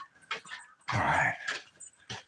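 A puppy dog whimpers and yips close by indoors, with short high whines and a longer, louder whimpering cry in the middle.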